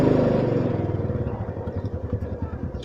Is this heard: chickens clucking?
no